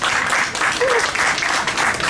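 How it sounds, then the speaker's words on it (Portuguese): A concert audience applauds steadily and loudly for a performer at a tribute show, a dense, continuous wash of clapping with a brief voice underneath. "forte aplauso para ele"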